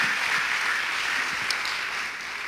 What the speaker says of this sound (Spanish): Alejandro Ramírez, un aplauso.